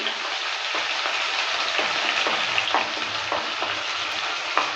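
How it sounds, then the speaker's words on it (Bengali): A paste of tomato, onion, ginger and garlic hits hot oil with a steady, loud sizzle, broken by regular stirring scrapes roughly every half second while frying for a Bengali tengra fish curry. "এবার পেস্টটা ঢেলে দিচ্ছি পেস্টটা দেওয়ার পর নেড়ে চেড়ে নিচ্ছি ভালো করে"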